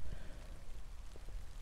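Steady soft rain on a dark, wet day outdoors, a constant even patter with a few closer drops, no voices.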